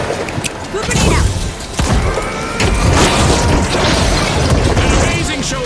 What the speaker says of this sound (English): Goo grenade out.